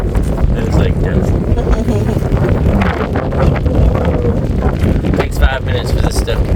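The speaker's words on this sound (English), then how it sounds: "It's a little windy to be doing this today" Wind blowing across a boat under repair, a steady broadband rush and buffeting that runs the whole time, with people talking over it.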